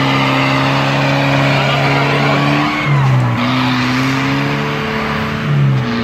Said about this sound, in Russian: А это была сейчас Toyota, это скоростышка, да?